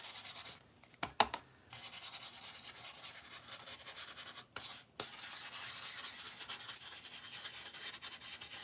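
Steady dry rubbing with a solid wax distressing a gingerbread-themed craft piece, a continuous close scratchy friction broken by a couple of short pauses, with no voices.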